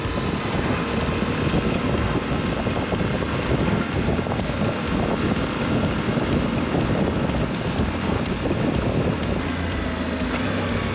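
A Suzuki V-Strom 800 DE motorcycle riding along a road, its engine droning steadily with heavy wind rush throughout, loud and continuous with no speech.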